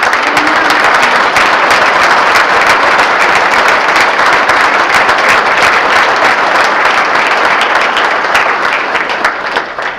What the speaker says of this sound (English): I'd like everyone to show their applause and appreciation for their generosity.